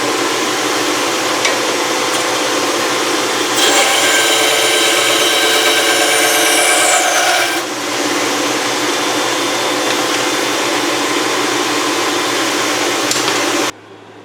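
A WEN BA3959 benchtop bandsaw runs with a steady broadband whine while cutting a maple guitar body, the blade noise swelling louder for a few seconds mid-cut before settling back to the motor's hum and stopping abruptly near the end.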